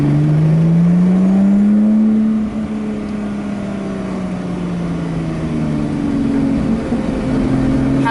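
Sports car engine from a Zenos E10 S, Lotus Exige S V6 or Classic Remise X6 drives past, a steady droning engine note that dips slightly in pitch and then rises again, loud and continuous.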